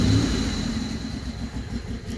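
A Pontiac G6 engine with a random cylinder misfire runs steadily at close range, a low uneven idle rumble carrying a faint irregular stumble throughout, with no talking.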